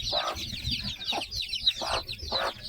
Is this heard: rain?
no